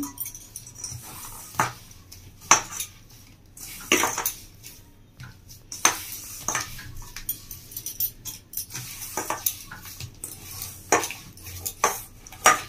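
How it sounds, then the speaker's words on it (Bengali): Chhana being kneaded and mashed with powdered sugar for Bengali sandesh, giving soft irregular squelching and scraping against a bowl or plate, with occasional sharper utensil clinks, close and fairly quiet, no talking. "চিনির গুঁড়োটা দিয়ে ভালো করে ছানাটাকে ভালো করে মেখে নেব।"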